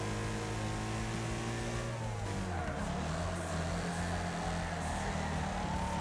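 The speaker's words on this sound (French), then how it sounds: "Hop, un petit drift sympa." A car in the Wreckfest Mobile racing game drifts, its engine droning steadily and then shifting pitch as it slides, loud and continuous with no voices.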